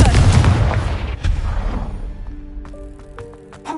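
Confringo explosion spell in Hogwarts Legacy: a loud, booming blast that rolls and fades over a couple of seconds, leaving a ringing musical tail and light clatter afterward.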